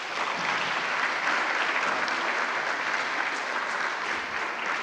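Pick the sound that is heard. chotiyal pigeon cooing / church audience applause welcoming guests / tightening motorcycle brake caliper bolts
church audience applause welcoming guests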